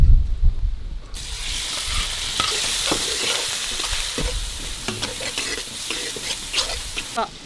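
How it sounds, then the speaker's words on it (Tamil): Crushed garlic and ginger dropped into hot oil for a Chettinad quail gravy, hissing into a loud, steady sizzle after a quiet second, with scattered crackles and stirring scrapes throughout. "எண்ணெய் நல்லா சூடாகிடுச்சு, தாளிக்கு போடலாம்."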